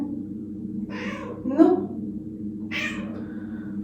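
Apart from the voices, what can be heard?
cat meowing at a door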